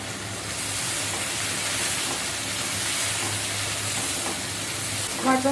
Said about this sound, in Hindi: प्याज का कलर चेंज हो गया है, बस इतना ही हमें ये कलर चाहिए। अब इसमें डाल देते हैं टमाटर।